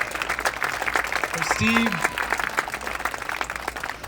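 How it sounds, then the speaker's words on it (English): Audience applause at a youth hoop dance championship in Santa Fe, steady clapping from a sizable crowd running throughout, with a voice speaking over it. "So let's give a round of applause"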